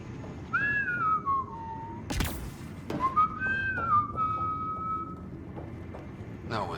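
Whistling in Mass Effect: Andromeda: two clear, close melodic whistled phrases separated by a sharp thud, with faint background sounds and a voice near the start.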